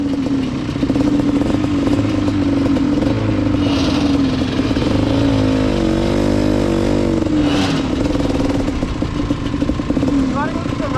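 A vintage quad ATV engine runs at part throttle rather than wide open, a loud steady buzzing drone with slight rises and dips, heard up close while people talk over it.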